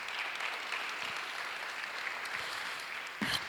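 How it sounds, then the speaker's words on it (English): Audience applause for Dawn Richards at a hip hop and politics event, a steady sustained clapping from a crowd that swells slightly near the end. "So please give another round of applause for Dawn Richards."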